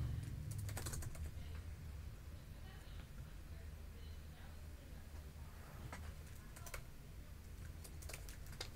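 Quiet computer keyboard typing with bursts of quick key clicks in irregular clusters, set against a low steady background hum.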